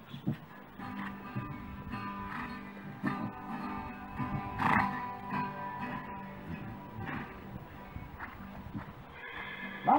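A horse canters, its hooves drumming in a steady rhythm with snorts and a whinny on top, under a continuous outdoor rumble in the Katherine outback.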